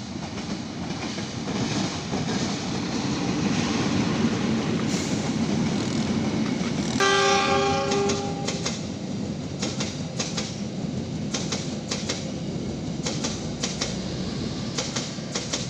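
The Argowilis passenger train, running Bandung to Surabaya, rolls past steadily through rice fields with a loud rumble and rhythmic clickety-clack of wheels over rail joints, and a horn-like tone sounds briefly midway.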